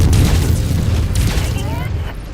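Heavy mech weapons in MechWarrior 5: Mercenaries boom continuously, a dense rumbling barrage of loud blasts with a brief whine near the end, under radio-style voice chatter.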